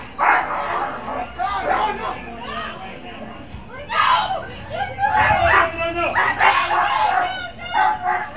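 A pit bull barks repeatedly amid loud, agitated voices, with the barking and shouting overlapping close by throughout the scene.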